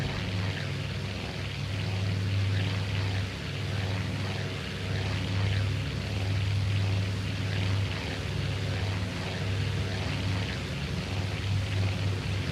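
Propeller engines of torpedo planes in the naval combat game Task Force Admiral, a steady loud droning hum with a low throbbing tone that holds throughout, swelling slightly as the aircraft press their attack.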